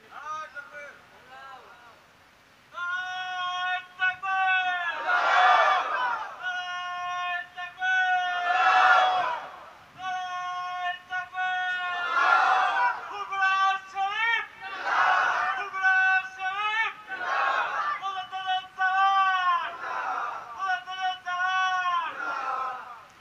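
At a religious sermon, a congregation shouts takbir in repeated loud bursts of massed voices. The bursts answer and overlap a single amplified chanting voice that rises and falls in long, sustained calls, and the exchange continues steadily.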